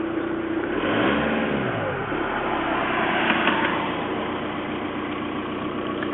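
A cold motor idles roughly and labours as the throttle is eased down, running close and steady with uneven low rumbling and a brief swell early on, sounding on the verge of stalling.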